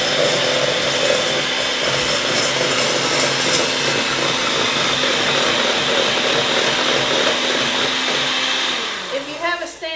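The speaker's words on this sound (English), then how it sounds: "I'm just using my hand mixer today" An electric hand mixer whirs steadily at high speed while beating egg yolks and sugar in a bowl, a loud continuous buzz that cuts off near the end with a few clinks.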